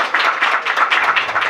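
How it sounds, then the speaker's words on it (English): Applause at a Black entrepreneurship happy hour campaign event in Detroit, heard as a short burst of fairly close clapping with a quick uneven rhythm, a few hands standing out rather than a large crowd. "Y'all give a round of applause for our guest this evening."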